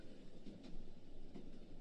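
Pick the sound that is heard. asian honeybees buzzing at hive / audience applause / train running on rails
train running on rails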